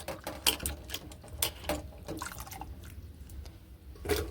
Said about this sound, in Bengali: এবারে সবজিগুলো এবারে আমি ধুয়ে নিচ্ছি